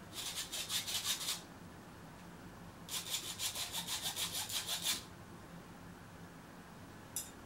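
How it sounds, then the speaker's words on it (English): A metal spoon scrapes across a sieve in a school kitchen band, played as two bursts of quick rhythmic rasping strokes about two seconds each with a gap between, then one brief scratch at the end; fairly quiet, no voices. "A metal spoon and a sieve."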